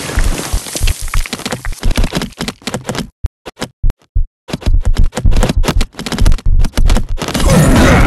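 Archidon archers loosing volleys of arrows in the video game Stick War Legacy, a loud stream of sharp crackling clicks and snaps arriving in quick bursts, with a short near-silent gap midway and no talking.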